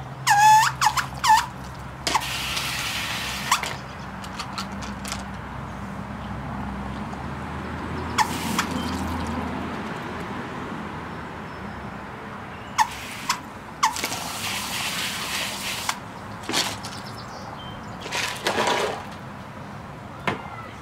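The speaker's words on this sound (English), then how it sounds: "I don't know why my hose keeps squealing." A garden hose squeals while rinsing items outdoors, a thin whine running under intermittent bursts of spraying water and faint vehicle noise nearby.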